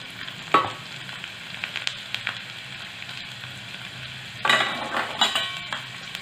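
Slit garlic cloves dropped into hot oil for a dal tadka, the pan sizzling steadily with sharp bursts of louder frying as the cloves hit and are stirred, no voices.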